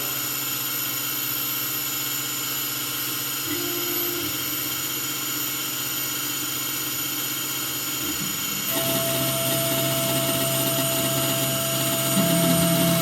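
Langmuir MR-1 CNC mill cutting 4140PH steel, a steady whining machining drone with tonal lines that rises and turns louder and brighter partway through as the feed is increased.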